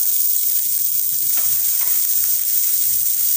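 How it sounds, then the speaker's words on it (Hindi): Chopped onions, ginger, chillies, mustard seeds and asafoetida frying in hot oil in a pan for onion kachori, a steady, close bright sizzle with faint stirring scrapes and no talking. "प्याज के हमें बेसी नै भाजु, एटा टिके कंचा थिबा"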